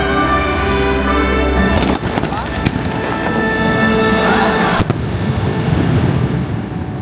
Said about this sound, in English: The cannons are going off.